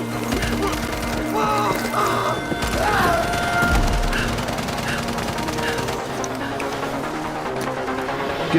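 Bursts of gunfire and heavy impacts in the co-op action horror game Blight: Survival, with rapid shots and thuds mixed with shouted voices and ambient noise throughout.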